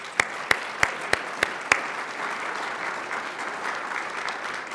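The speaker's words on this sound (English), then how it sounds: "So let's give a round of applause to all those folks." At a Montgomery County history talk, six sharp, loud individual claps ring out close by before blending into a sustained, even wash of crowd applause that continues to the end.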